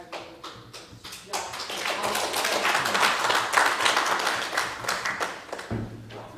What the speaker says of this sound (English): he deserves that applause